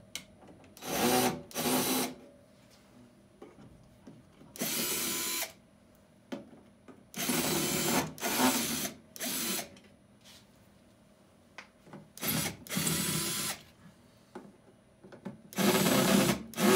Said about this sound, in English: The next step is to remove your screws that hold your panel in place.